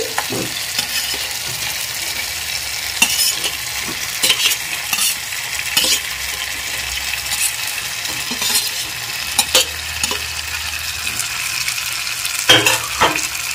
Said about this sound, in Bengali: এখন মশলার সাথে ভালো করে নেড়ে চেড়ে মিশিয়ে নিচ্ছি।